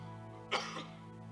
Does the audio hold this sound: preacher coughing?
yes